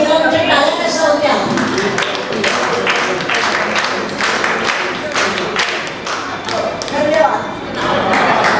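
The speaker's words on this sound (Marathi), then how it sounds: "आणि कवायत विरामच्या टाळ्या कशा होत्या?" A crowd at a 1968-batch school reunion gathering of Parle Tilak Vidyalaya claps in a steady rhythm, with dense overlapping hand-claps that keep a regular beat throughout and sound fairly close.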